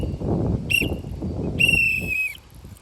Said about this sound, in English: you're going to do 3 long whistles